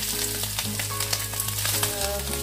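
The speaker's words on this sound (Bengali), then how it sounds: "কড়াইতে তেল দিয়ে সয়াবিনগুলিকে ভেজে নেওয়া হচ্ছে" Soybean chunks frying in oil in a wok, a dense, close sizzle with steady crackle and small pops, under a constant background hum.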